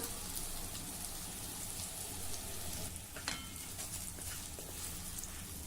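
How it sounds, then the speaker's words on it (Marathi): Green chillies stir-roasted over low heat in a large wide pan, a dense, even sizzle with occasional scraping clicks, close and continuous throughout with no voices. "मंद आचेवर अशा मोठ्या कढईमध्ये किंवा पसरट तव्यावर ह्या परतत राहा"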